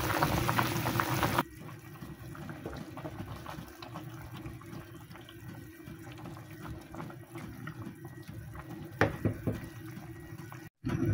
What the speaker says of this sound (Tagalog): Okay, kumukulo na siya, di ba?